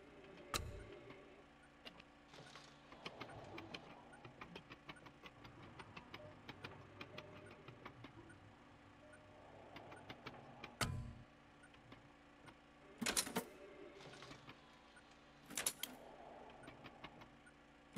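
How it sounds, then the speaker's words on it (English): Inside the VR game I Expect You To Die, a combination lock mechanism purrs with a low, faint mechanical whir and ticking, broken by a few sharp clacks and thumps over eighteen seconds. "the purring of a combination lock mechanism"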